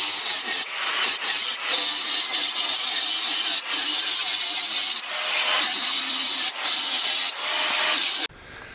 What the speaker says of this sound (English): angle grinder blade is completely blunt now. Just been grinding down here